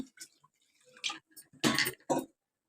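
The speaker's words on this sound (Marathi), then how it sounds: "थोडंसं पाणी घालते, शिजायला पाहिजे ना." Water is poured into a pot of cooking val (field bean) bhaji, giving a couple of short, close splashy gushes between quiet stretches, with no talking.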